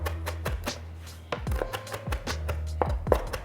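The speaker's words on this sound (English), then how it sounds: "Let's get this cut up. You want to make the parsley pretty fine." Knife chopping Italian parsley finely on a cutting board, a close series of crisp, quick taps in uneven bursts with short pauses between.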